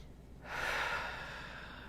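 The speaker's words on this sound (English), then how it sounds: "I'm breathing in the energy that is supporting me in my focus and in my intention." One deep breath drawn in, a soft, airy rush that swells and then tails off. It sounds faint and close, with no talking.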